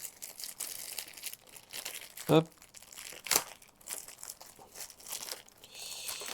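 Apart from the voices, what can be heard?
unwrapping Corsair Harpoon mouse from its packaging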